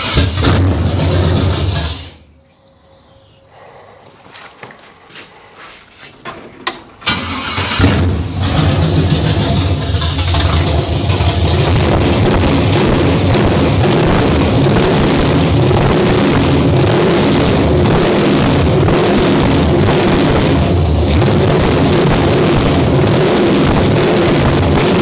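A 1968 Camaro engine that sat for years roars loudly nearby, drops to a brief lull as it stumbles, then catches and keeps running hard and rough with repeated revving for the rest of the stretch.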